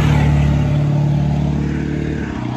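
A heavy truck passes on a street close by with a loud, low engine rumble and a steady drone. The rumble fades slightly as it moves away.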